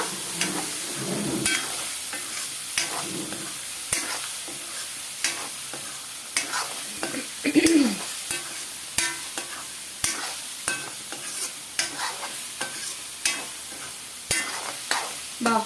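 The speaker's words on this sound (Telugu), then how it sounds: "కొంచెం హై మీదే మనం చక్కగా పైనుంచి కిందకి కింద నుంచి పైకి బాగా రోస్ట్ లాగా చేసుకోవాలన్నమాట" Banjara curry is stirred and roasted on high heat in a pan, with steady sizzling and frying hiss broken by repeated scraping strokes of a spoon against the pan.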